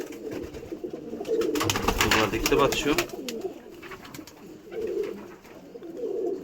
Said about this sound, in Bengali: এই পায়রা গ্রিড খাচ্ছে